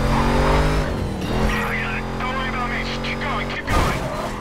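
Race car engine revving and tires squealing in the video game Need for Speed Carbon, a loud continuous whine with gear-shift drops, with a voice talking over it.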